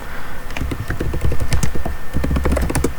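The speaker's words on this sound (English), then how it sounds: "Sorry about the typing" Typing on a computer keyboard: rapid, uneven bursts of crisp key clicks close to the microphone, alone without any voice.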